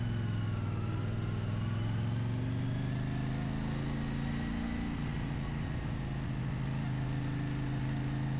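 A CF Moto CLC-450 motorcycle with its stock exhaust hums steadily for about eight seconds at riding speed in traffic, with a deep, even drone and a slight rise in pitch midway.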